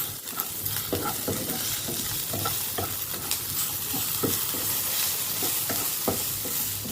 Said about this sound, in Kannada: ಸೊ ಪಿಂಕ್ ಸಾಲ್ಟ್ ಹಾಕ್ಕೊಂಡಾದ್ಮೇಲೆ ಸ್ವಲ್ಪ ಇದನ್ನು ಫ್ರೈ ಮಾಡೋಣ ಚೆನ್ನಾಗಿ.